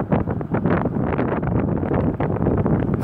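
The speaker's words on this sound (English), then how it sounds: "I feel more wind on my back right now." Wind gusts outdoors against the microphone while someone handles lines, a loud, continuous rumbling buffet with uneven surges and no pauses.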